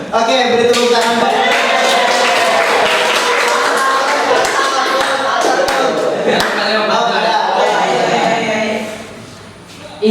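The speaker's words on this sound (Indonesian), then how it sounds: "beri tepuk tangan Pak" Audience in a school or training session clapping on request, a dense continuous burst of applause filling the room for about nine seconds before tapering off, with voices mixed in.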